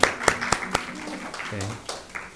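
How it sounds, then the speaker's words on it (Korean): A church congregation applauds during a Sunday worship service, a brief patter of handclaps with a few sharp, distinct claps standing out against room murmur and some talk. "우리 박수 쳐주시기 바랍니다"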